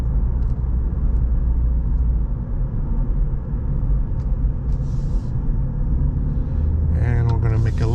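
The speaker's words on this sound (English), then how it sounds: "give you an acceleration demonstration as we dive onto the freeway" A 2013 Ford Fusion Hybrid SE accelerates onto a freeway during morning rush, heard from inside as a steady low engine and road rumble with tire noise, and a voice starts talking near the end.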